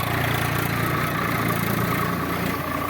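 A tractor engine drones steadily while ploughing a farm field, a continuous, even, fairly loud rumble with no break and no voices.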